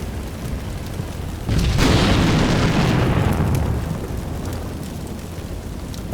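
A BTR-4E armored vehicle is destroyed in Combat Mission Black Sea, a loud explosion that bursts out suddenly and rumbles on for about two seconds over steady background noise before fading.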